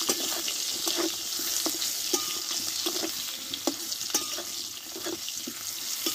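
Eggplant pieces fry in oil with a steady, dense sizzle and hiss, broken by faint pops and occasional clicks of stirring, close by and continuous without talk.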